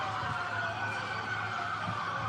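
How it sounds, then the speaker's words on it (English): A throng of protesters outside blasts whistles and bullhorn sirens, a steady, sustained shrill wail with no pauses, loud and continuous. "the event was drowned out by a throng of protesters outside blasting whistles and bullhorn sirens"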